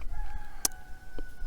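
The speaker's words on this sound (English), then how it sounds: "the rooster from the neighbor next door" A neighbor's rooster in the Swedish countryside crows faintly in the distance, a brief call set against a quiet room with a steady low hum.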